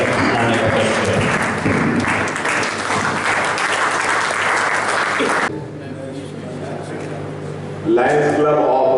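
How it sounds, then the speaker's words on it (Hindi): Loud, sustained applause from a crowd at a Lions Club installation ceremony in Nagda, broad and continuous for several seconds, dipping in the middle before swelling again, with people talking over it. "लायन PD शुक्ला साहब जोरदार तालियों के साथ में हमारे तीनों अध्यक्ष को आने का प्रयास करें।"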